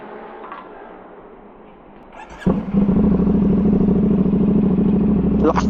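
A CFMOTO 450CL-C motorcycle engine starts and idles with a loud, steady exhaust rumble close by, preceded by quieter background noise and a brief click.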